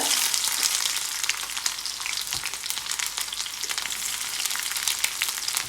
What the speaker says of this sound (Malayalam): കുറച്ച് വെളിച്ചെണ്ണ ഒഴിച്ചിട്ട് കടുക് പൊട്ടിക്കുക.